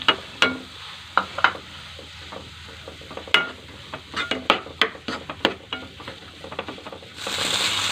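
Boiled potatoes are stirred into spiced masala for an aloo paratha filling. A spatula scrapes and clinks against the pan in irregular strokes over a soft, steady sizzle, and the frying grows louder at the end.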